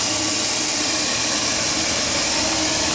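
A large steam boiler, 20 inches in diameter and 38 inches high, hisses loudly and steadily from its blower, a close, unbroken rush of sound.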